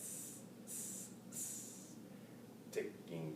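A voice imitates sizzling sausages with three breathy hisses in a row, faint and close, followed by a short voiced sound.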